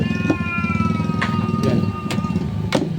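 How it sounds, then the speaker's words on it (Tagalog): Several cats meowing loudly and repeatedly during a flat iron repair session, with sharp cries recurring every half second or so over a steady low mechanical hum and background voices. "maingay yung maingay yung mga pusa"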